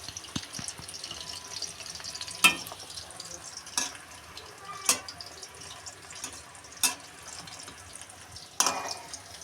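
Chicken pieces fry in hot oil for chilli chicken, giving a low, steady sizzle broken by several sharp clanks and scrapes from a utensil stirring the pan, with no talking.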